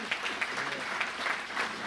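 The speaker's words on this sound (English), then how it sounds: "Once again, a big round of applause" Audience applause at a live jazz orchestra concert, a steady dense wash of clapping at moderate level across two seconds, with no one speaking over it.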